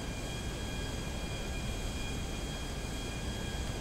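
An airplane engine drones steadily in Grand Theft Auto 5, a constant, even hum with a faint whine on top, heard from inside the aircraft.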